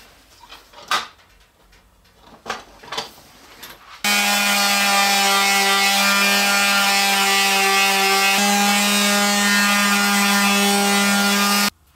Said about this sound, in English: give the whole assembly a good sanding